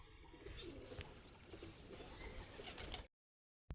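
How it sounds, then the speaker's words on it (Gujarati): Domestic pigeons coo softly and faintly after being flown and brought back down, with soft low calls over quiet background noise before the sound cuts to silence. "આપણે કબૂતર ઉડાડી અને નીચે ઉતારી લીધા છે"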